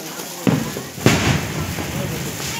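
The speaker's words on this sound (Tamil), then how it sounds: "நான் கையிலே வெடிக்க போறேன்" Firecrackers bursting during Diwali among friends, two sharp loud cracks about half a second apart followed by crackling residue, with voices shouting nearby.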